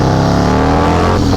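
A Harley-Davidson motorcycle with a supercharged 135 engine roars under hard throttle, a loud, continuous, deep rumbling drone heard close up while riding.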